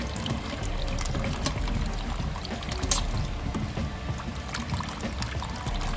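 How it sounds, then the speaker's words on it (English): Kitchen tap running steadily while crab legs are wiped down for a crab boil, a continuous splashing trickle with soft handling noises over it and no talking. "Keep the water going just a little bit."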